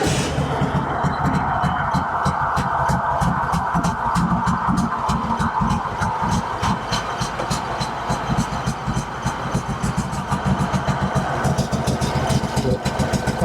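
A Kohler Command engine on a Craftsman GT5000 mower idles roughly with a dead cylinder, a steady close throbbing chug with uneven skipping beats throughout.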